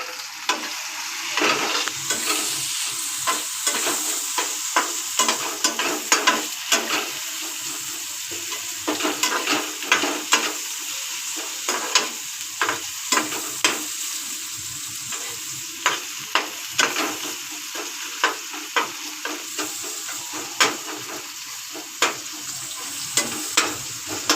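Chopped tomatoes sizzle and fry in a pan for an okra curry, a steady close hiss broken by frequent scraping and stirring clicks throughout.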